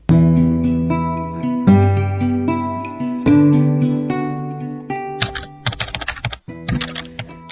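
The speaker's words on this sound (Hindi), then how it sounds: "टाइपराइटर के बटन दबने की आवाज सुनाई दे रही थी।" Resonant piano-like notes ring out first, then a quick run of sharp, irregular typewriter key clacks follows near the end.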